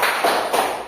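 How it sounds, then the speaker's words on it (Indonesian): Two quick bursts of group clapping mark the rhythm of a tepuk semangat chant in a classroom, the claps close and fairly loud with a hum of room noise between them. "Kita mau tepuk dulu"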